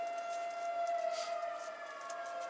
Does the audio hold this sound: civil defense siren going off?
yes